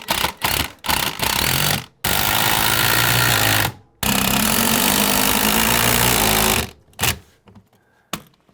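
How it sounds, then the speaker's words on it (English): A power driver sinks screws at an angle into wood while a rotted sill plate over a basement bulkhead opening is replaced, giving loud sustained whirring bursts of several seconds with short trigger blips and pauses between them. "If I can, I'm going to try and get some screws in here at an angle."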